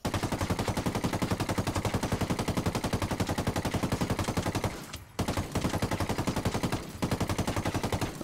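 Light machine gun in Ghost Recon Wildlands firing long, rapid sustained bursts at a steady rhythm, loud and close, with one short pause near the middle and a brief break toward the end.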